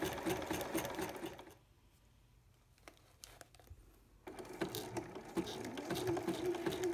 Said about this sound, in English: I'm using a narrow and short zigzag, almost like a buttonhole stitch, but not quite as tight, to stitch over the edge of the applique.